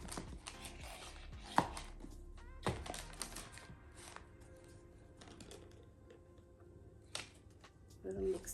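A tool scrapes and taps in a bowl while L'Oréal hair dye for covering gray roots is mixed: irregular clicks and knocks, moderately close, with a voice speaking over them.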